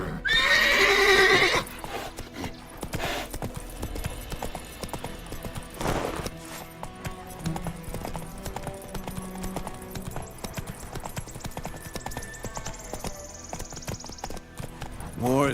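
Horse hoofbeats from The Witcher 3: Wild Hunt, a loud whinny at the start followed by a steady, close clip-clop gallop that carries on alone for the rest of the stretch.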